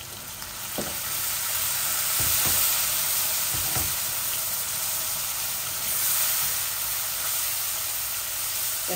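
Spices and extra hot curry powder for a tilapia, potato and carrot curry sizzle steadily in a pan, a dense continuous frying hiss with occasional stirring scrapes, close and fairly loud.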